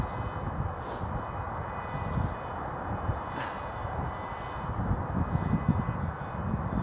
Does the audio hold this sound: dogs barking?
no